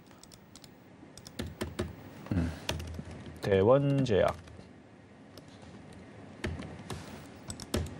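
Typing on a computer keyboard that is not registering keys well, scattered sharp clicks and taps in uneven bursts, with someone talking briefly over them in the middle.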